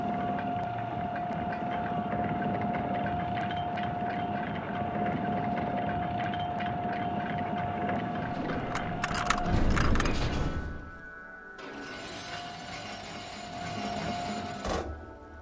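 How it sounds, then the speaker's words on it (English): Waterlock machinery in the game Disco Elysium, a steady mechanical hum with tonal whine, then a loud clunk around the midpoint as the lever connects, followed by the mechanism grinding and moving over a quieter ambience. "As soon as the metal connects against the contact pins, you hear a loud clunk. The waterlock starts moving."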